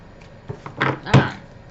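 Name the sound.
cards being shuffled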